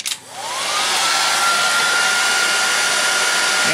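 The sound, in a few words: heat gun blowing hot air on heat shrink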